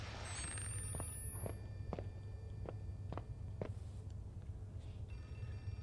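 Telephone ringing inside the Outlast 2 horror game, about eight faint evenly spaced rings over a low droning ambience, with no talk.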